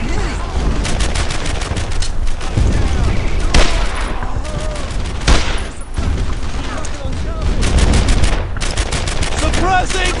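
Dense, loud gunfire from World War II squad combat in Brothers in Arms: Earned in Blood, with rapid machine-gun bursts and rifle shots crackling almost without pause while voices shout over the battle.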